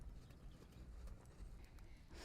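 A horse canters in a dressage training session, its hooves making faint, rhythmic clip-clop beats against a steady background of arena noise, with no talking.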